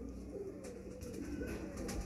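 Soft cooing from a pigeon comes in low, repeated throaty calls close by, over a quiet background hum.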